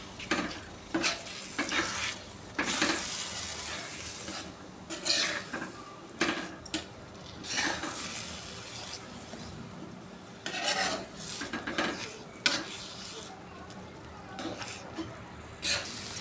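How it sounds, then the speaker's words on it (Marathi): Eggs and spinach stir-fried into pav-style bhurji in a pan: repeated scraping and stirring strokes with a soft sizzle, spatula rasping against metal in irregular bursts, close up and moderately loud, no talking. "आता ही मी चांगली परतवून घेत आहे बघा भुर्जीसारखी करत आहे"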